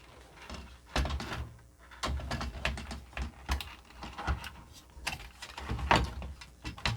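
A Commodore 64C keyboard handled up close, with irregular clicks, clacks and knocks of plastic keys and casing being moved and tapped, uneven bursts with short pauses.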